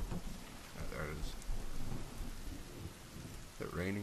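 Steady rain hisses throughout with deep rolling thunder rumbling underneath, from a stormy forest in The Forest video game.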